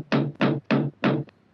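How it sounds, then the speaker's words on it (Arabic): Four firm knocks on a wooden door in an even rhythm, close and loud against silence, with a faint fifth tap at the end. "إذا به يسمع صوت طرق على الباب فجأة"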